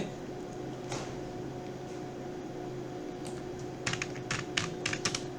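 Soft clicking of computer keys as values are typed during a programming practical, a few isolated taps followed by a quick burst of keystrokes over a steady fan hum.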